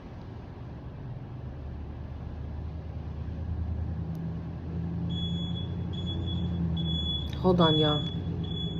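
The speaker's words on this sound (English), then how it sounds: "It sounded like a beep" A steady high electronic beep tone starts partway through and repeats over a low rumbling background, with a person speaking briefly near the end.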